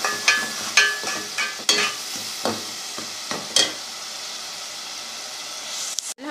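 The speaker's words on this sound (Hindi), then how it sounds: "अब मसाले डाल दिए, अब हम इसको थोड़ा सा भूनेंगे।" Spices sizzle and crackle steadily in a hot pan, with several sharp stirring scrapes and clatters near the start, no voices.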